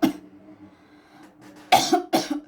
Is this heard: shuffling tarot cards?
no